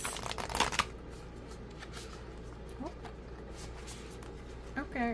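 Mermaid oracle cards being shuffled by hand, a brisk riffling flutter up front followed by soft sliding and tapping of the deck, with a quiet voice murmuring in between.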